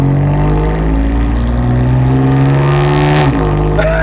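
A cold BMW M4 CS Stage 3 tuned to 700 hp, its engine droning loud and close under steady high revs, then the pitch drops off sharply before a short blip near the end.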